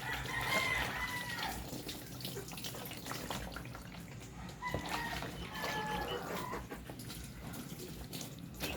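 Chickens cluck and crow in a yard during bathing, with running water audible throughout; the fowl calls come in short bursts near the start and again mid-clip over the steady splash.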